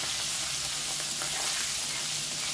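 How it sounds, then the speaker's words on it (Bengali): Prawns frying in hot oil in a kadai, lightly fried rather than crisped, giving a steady, even sizzle of moderate loudness with faint crackles and no talking. "সুন্দর করে চিংড়ি মাছগুলো ভেজে নেব।"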